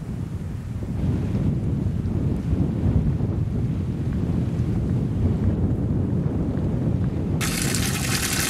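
Wind sweeps across rocky mountain terrain in Jotunheimen, Norway, a steady, loud broadband roar buffeting the microphone throughout without letup.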